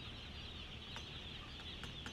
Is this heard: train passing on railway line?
no